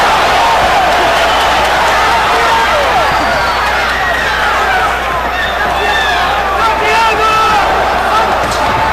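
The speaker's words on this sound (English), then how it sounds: "There's a lot of cheering and excitement in the arena." A boxing arena crowd in Fresno, California, murmurs and cheers in a steady, full wash of noise, with scattered whoops and shouts rising through it and a commentator speaking over the top.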